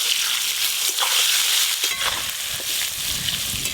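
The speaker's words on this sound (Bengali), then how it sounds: "প্রথমে আলুগুলো ভেজে নেবো, তারপরে বেগুনগুলো দেবো।" Potatoes frying in a pan in a home kitchen, a loud, steady, bright sizzle that goes on without a break, with a few soft stirring bumps and no voices.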